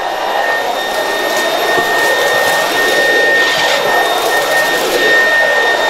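A Trouver Power 12 cordless stick vacuum runs steadily at full power, a loud high-pitched whine with airy suction noise and slight fluctuations as its bin fills, no voices.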